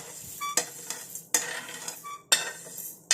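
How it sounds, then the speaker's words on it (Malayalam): A mixer grinder jar is set down and roasted spices are added, with several sharp metallic clinks and scrapes of a spoon against the jar, close and unaccompanied by talk. "മിക്സിയുടെ ജാറെടുത്ത് വയ്ക്കുക. അതിലേക്ക് നമ്മൾ വറുത്ത് വെച്ചേക്കുന്ന എല്ലാം കൂടെ അങ്ങ് ചേർത്ത് വയ്ക്കുക."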